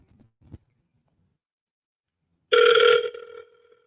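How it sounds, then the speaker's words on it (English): A telephone rings for an incoming call, one short loud electronic ring burst that fades quickly, preceded by a couple of faint low knocks and otherwise silence. "Oh, that was your phone."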